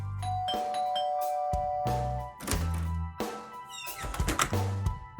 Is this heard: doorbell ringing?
yes